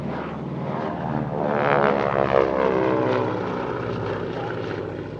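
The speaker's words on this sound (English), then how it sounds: "fitted with a pair of 450 horsepower Wasp Junior radial engines" Vintage twin-engine aircraft with a pair of 450 hp Wasp Junior radial engines passing at an airshow near Paris, a throbbing propeller drone that swells as it nears and then fades slightly.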